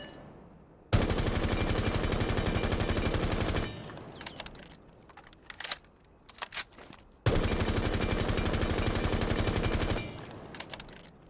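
Two long bursts of rapid automatic gunfire from a rifle fitted with a flash hider in Rainbow Six Siege, each lasting a few seconds, with scattered shell and movement clatter in the gaps between them.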